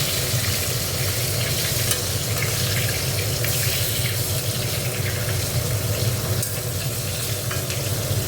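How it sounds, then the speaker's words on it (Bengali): Finely chopped brinjal frying in hot oil in a pan, a loud, continuous close sizzle and crackle that holds steady throughout. "এবার বেগুনগুলো ভেজে নেবো একটু"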